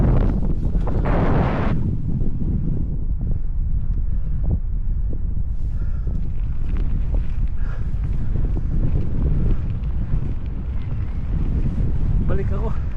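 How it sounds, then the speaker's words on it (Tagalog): Strong, cold wind by a lake in North Dakota roars and buffets the microphone continuously, a loud steady rush with occasional gusts and faint background sounds beneath. "Pero malamig naman, mahangin."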